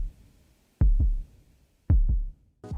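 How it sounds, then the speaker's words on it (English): A heartbeat in close, steady lub-dub pairs: two strong double thumps with a quiet gap between them, and a third beat starting at the very end. "I think the sound of my heartbeat is comforting to her."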